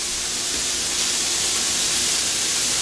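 Worcestershire sauce hits small onion pieces sautéing in olive oil, giving off a steady, close sizzling hiss with no talk.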